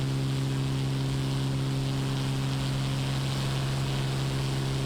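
A Beechcraft propeller plane in MSFS 2024 holds a steady, droning engine hum with a strong low tone, constant and loud with no change in pitch, heard on its own.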